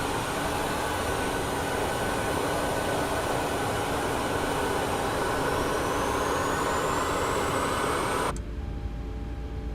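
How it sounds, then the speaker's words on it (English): Jet engine start on an iFly 737 MAX 8 flight simulator, a steady loud roar with a rising whine climbing in pitch as the engine spools up, cutting off abruptly near the end. "We'll start up the second engine."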